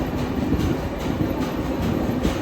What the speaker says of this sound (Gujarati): તમે જોઈ શકો છો પાછળ ટ્રેન છે